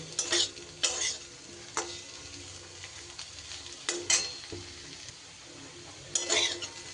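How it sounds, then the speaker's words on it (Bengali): Potatoes frying with spices in a pan over medium heat; soft, steady sizzling runs under sharp scrapes and clinks of a spoon stirring, close but fairly quiet, with no talking. "দু থেকে তিন মিনিট আমি মাঝারি আঁচে ভালো করে মশলার সাথে আলুকে আরও ভাজা ভাজা করে নিলাম"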